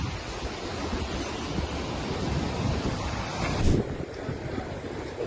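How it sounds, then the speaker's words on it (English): Massive hurricane waves from Hurricane Idalia surge and crash ashore in the Cayman Islands, a steady, loud roar of surf and wind with a heavier crash near the end. "Hurricane Idalia intensified offshore, sending massive waves crashing into the Cayman Islands"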